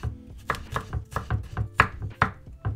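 A knife chops through a shallot on a cutting board in a steady run of about ten crisp, close strokes, each a sharp thud-and-click with brief gaps between.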